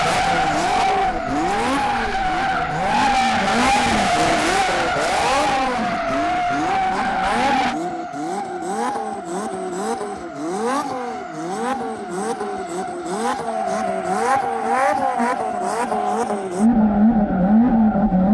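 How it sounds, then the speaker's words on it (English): Car doing donuts at a drag racing event, tires skidding and squealing continuously with engine revving, loud and close, then a sudden change in tone as it keeps spinning. "Last call for donuts."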